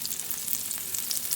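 Butter and olive oil sizzle on a hot grill surface, a steady, close crackle and hiss with fine popping that continues evenly throughout, with no talking.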